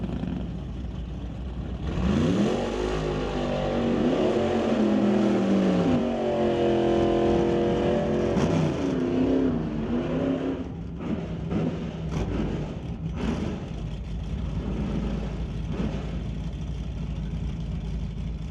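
Two drag race cars, a Plymouth Barracuda and a Mercury, roar off the line at an outlaw drag racing event, their loud engines rising in pitch through the run before fading to a rumble with scattered clatter.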